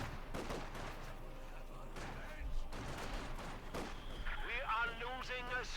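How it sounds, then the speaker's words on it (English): Gunfire from Soviet conscripts in the strategy game Company of Heroes 2, rattling scattered small-arms shots and distant battle noise running under a steady caster's voice. "Again, he's being shot to bits by the conscripts."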